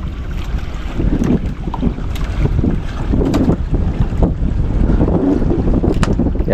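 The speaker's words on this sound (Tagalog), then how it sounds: "Agad yung maliit na bangka ni Tay Tatsuki." A small wooden outrigger boat out on the water at an oyster-gathering spot: loud, steady wind rumble buffets the microphone over lapping water and the boat's movement, with no speech.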